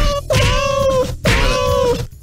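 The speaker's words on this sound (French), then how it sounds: "j'ai des chats, j'ai des maillets, je tape dessus." Two loud, close cat meows come one after another in a comic musical cat-piano gag, each a drawn-out tonal cry separated by a short gap.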